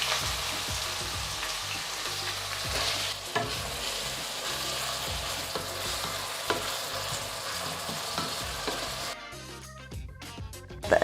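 Chopped onions frying in hot oil for Ethiopian egg stew, a dense close sizzle with repeated stirring scrapes throughout that drops to quieter crackling near the end.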